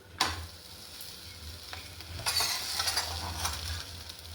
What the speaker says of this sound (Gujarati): લોડી આપણી ગરમ થઈ ગઈ છે તો આપણે અંદર પરોઠો